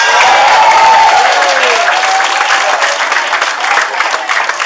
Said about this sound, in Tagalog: Palakpak naman siya.